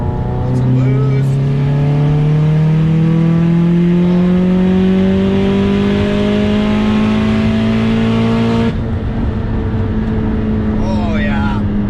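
Heavily tuned 500HP Subaru STI pulling hard in fourth gear under turbo boost, engine note climbing steadily and loudly from inside the car, then a sharp drop as the throttle lifts, with brief voices near the end.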